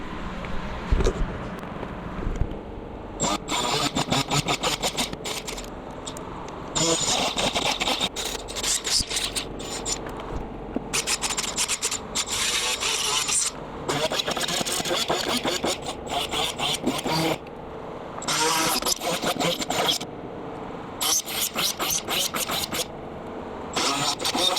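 Harsh grinding of metal while shaping parts to fit new fuel lines, loud and close in long bursts with brief gaps between passes.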